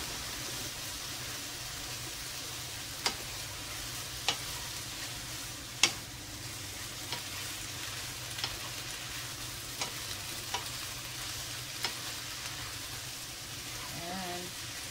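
Pancit noodles sizzle and fry steadily in a pan, a soft continuous crackle broken by occasional sharp taps and scrapes of a utensil stirring, with no voices.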